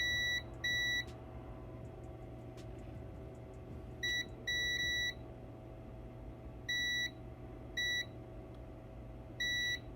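Short electronic beeps from a multimeter continuity test on Nintendo Switch circuit board components, coming in paired and single bursts at irregular intervals over a quiet hum, with no talking.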